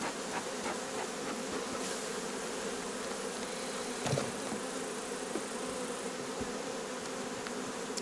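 Dense, steady buzzing of a honey bee colony shaken off a hive frame back into the hive at a nomadic apiary with Carniolan and Buckfast bees, a continuous close swarm drone with a faint knock partway through.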